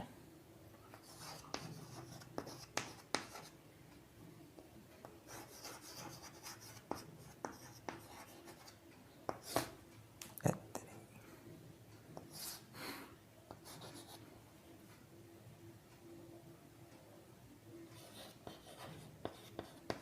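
Chalk or marker scratching out a definition on a classroom board in a physics lesson, faint strokes and taps coming in irregular bursts over a long stretch, with no talking.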